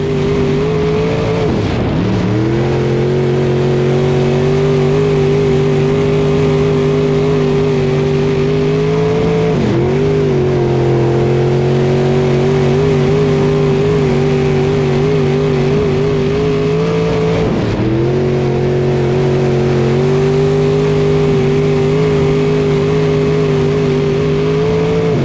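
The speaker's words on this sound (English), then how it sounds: "Here comes Hartwig in the 9 Junior down the front straightaway" IMCA modified race cars roar around a dirt track at the Clash on the Coast opener, a loud, sustained engine drone that dips and surges in pitch roughly every eight seconds as the pack comes off the turns and accelerates down the straightaway.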